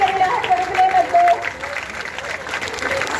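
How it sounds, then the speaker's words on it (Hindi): A crowd applauds at a village welcome for a returning daughter, a continuous patter of clapping with a voice talking over it and a faint whistle-like tone. "तालियों की गड़गड़ाहट रुकने मत दो।"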